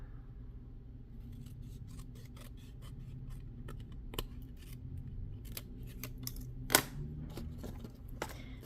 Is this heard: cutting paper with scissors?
yes